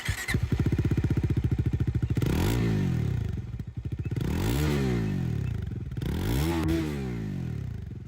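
Close, loud Bajaj Dominar 400 motorcycle idling with a deep burbling dual-barrel exhaust, blipped three times so the revs climb and fall back in repeated sweeps.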